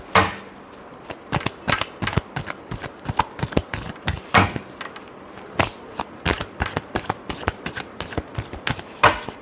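Tarot cards being shuffled by hand during an Aries reading, a steady run of crisp, close riffling clicks and soft slaps with no voice over them.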